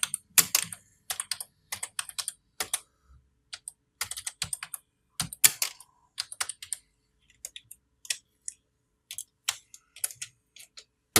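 Typing a heading on a computer keyboard in desktop publishing software, with steady bursts of crisp close keystrokes and brief pauses between runs, no talking.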